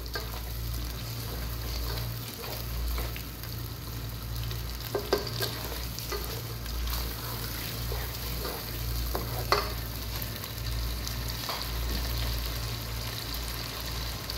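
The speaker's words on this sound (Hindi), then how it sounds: "इसको स्लो आंच पे रख देंगे ताकि अच्छी तरीके से इसका ऑयल भी ऊपर आ जाए और इस तरीके से इसकी भुनाई भी हो जाए" Chikar cholay chickpeas frying in oil over a low flame, a soft continuous sizzle with occasional stirring scrapes and clinks, close up with no talk.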